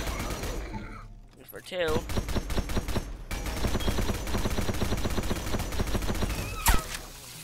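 Rapid bursts of gunfire from the Unfortunate Spacemen video game, a dense run of repeated shots lasting several seconds with one sharper blast near the end, under a voice speaking briefly.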